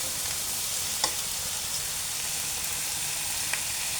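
Carrots and peas cook in a pan for a vegetable noodle dish, making a steady soft sizzling hiss with a couple of faint clicks, and no one talks.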